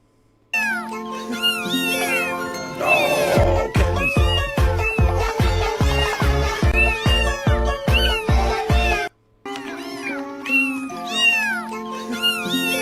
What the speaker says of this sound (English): Look at those little kittens